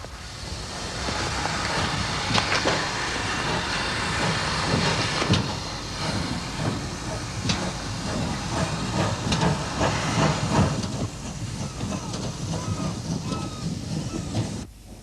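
A steam boat train for the Channel Islands works slowly along the Weymouth quayside, giving a steady broadband hiss of steam with scattered clanks and rail knocks throughout, loud and close.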